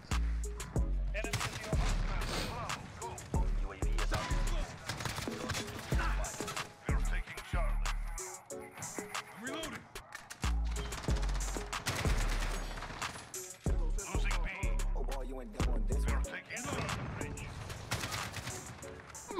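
Resonant AK-47 rifle in a modded first-person shooter, firing repeated bursts of rapid automatic shots that cut in and out, with game effects and a voice talking in between.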